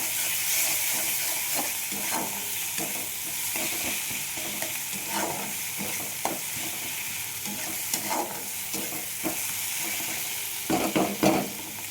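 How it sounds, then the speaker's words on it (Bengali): Fish curry with tomato paste and ginger is sautéed in a pan, a continuous sizzling hiss broken by repeated spatula stirs and scrapes, close and steady throughout. "ভালোভাবে কষিয়ে নিতে হবে"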